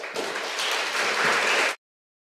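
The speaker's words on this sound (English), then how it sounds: "One round of applause, please." Audience applause at a student recognition ceremony for biliteracy seals, a dense steady burst of clapping that fills the room for under two seconds and then cuts off abruptly.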